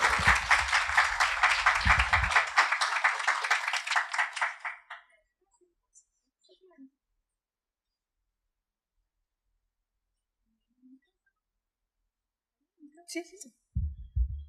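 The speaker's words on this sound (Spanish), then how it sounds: "La recibimos con un fuerte aplauso" A burst of audience applause at a history lecture for a visiting historian, steady dense clapping for about four seconds that cuts off into near silence, with a few soft sounds and a voice beginning at the end.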